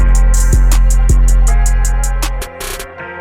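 A dense, loud beat with punchy drum hits plays steadily, then abruptly cuts out near the end, leaving a brief quieter tail.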